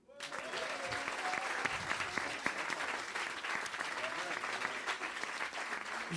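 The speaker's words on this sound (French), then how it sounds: "Je voudrais également qu'on fasse une salve d'applaudissements, même tout aussi bruyante." A theatre audience at the Kandidator 2024 semi-final applauds in one dense, sustained wave of clapping from start to finish, with no pauses.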